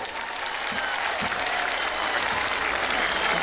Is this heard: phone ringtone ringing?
no